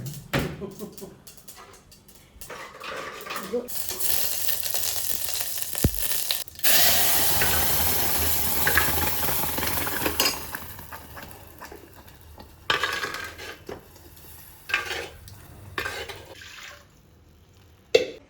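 Tempering splutters in hot oil for a ridge gourd masala curry, a loud crackling hiss lasting several seconds that then breaks into shorter sputtering bursts with quieter gaps.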